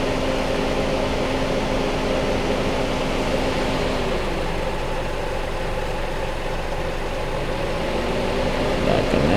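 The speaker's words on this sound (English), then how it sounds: "Yeah, you guys can hear the video, the fan running right now." A car's cooling fan runs loudly with a constant broadband whoosh over an idling engine, stopped in traffic while the car overheats and the A/C has failed. A faint tone shifts partway through, and the sound stays steady throughout with no voices.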